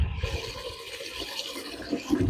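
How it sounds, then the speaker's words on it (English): Cold tap water runs into a pot of rice, a continuous rushing flow that swells louder toward the end as the pot fills. "Okay, so I'm going to put some water in it."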